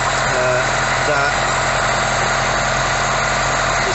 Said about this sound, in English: we've got the car started, and the choke is engaged, as you can hear